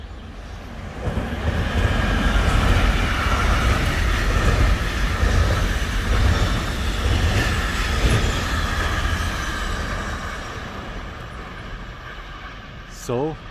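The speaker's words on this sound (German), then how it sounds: "So, dieser Zug ist gerade im neuen Tunnel verschwunden" Passenger train rolling past along a lakeside embankment before disappearing into a new tunnel, a loud, sustained rumble with rail clatter and squeal that fades as it enters, followed by a brief voice near the end.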